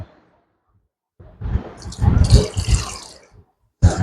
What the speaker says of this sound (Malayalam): അതിനുവേണ്ടി നമ്മൾ റോസ് വാട്ടറും വെള്ളം കൂടെ ഒരു കോട്ടൺ എടുത്തിട്ട് അതിൽ മുക്കി വയ്ക്കുക